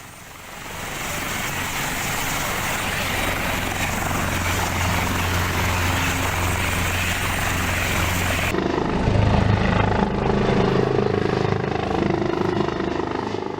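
A helicopter escorting a flight in Mimika, Papua, drones steadily and loudly overhead with continuous rotor and engine noise that shifts in tone partway through, with no talking.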